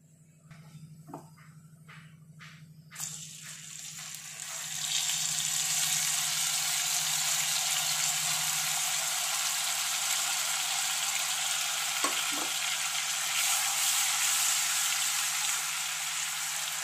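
Ginger, garlic and green chili paste hits hot oil in a pan. It starts with a few clinks, then a loud, steady sizzle that continues close up with no talking.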